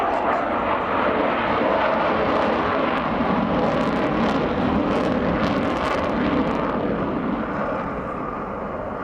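An Avro Vulcan B2 jet bomber passes overhead at an air tattoo, a loud, continuous roaring rumble that fills the whole stretch and eases slightly at the end.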